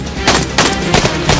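Gunfire from the 2022 action movie Human Shield: four loud, sharp bursts of shots about a third of a second apart, each cracking out over a dense, busy soundtrack.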